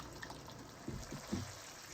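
Water pours softly into a pot of jollof rice with parboiled rice, a quiet steady splash with low gurgles, faint and close, no voices.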